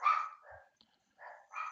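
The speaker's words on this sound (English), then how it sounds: "pardon the dogs again." Dogs bark a few times nearby, sharp yaps separated by a brief pause, with no talking.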